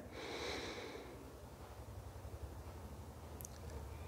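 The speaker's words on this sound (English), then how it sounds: "slowly take a deep breath in" A slow, deep inhale during a yoga session, a soft airy breath swelling near the start and easing off, heard close over a low steady background hum.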